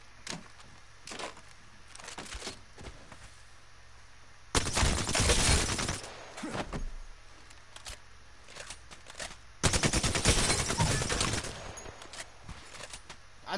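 Bursts of automatic gunfire from a gun in the video game Apex Legends, two long loud volleys separated by scattered single shots over a quiet background.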